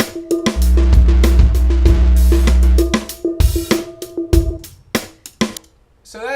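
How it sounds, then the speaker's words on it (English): Percussion and drum loop in Ableton Live run through machine distortion on the Mulholland setting, punchy hits with a cowbell-like clank and a heavy sustained low boom early on, loud and choppy with no talk. "Okay, so I've basically got some percussion and some drums."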